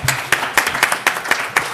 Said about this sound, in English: A round of applause for Sam